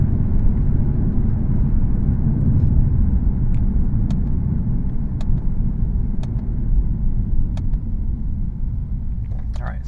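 A Lexus RC F V8 on track at Fuji Speedway, driven at part throttle in second gear, makes a loud, close, continuous low engine roar and rumble with brief clicks, under a man's speech.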